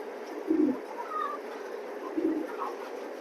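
Soft coos from racing pigeons for sale come in two short bursts, close by, against a quiet background.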